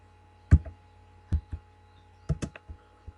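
Typing on a computer keyboard: a few separate key clicks land close by in short irregular bursts, with quiet pauses between them.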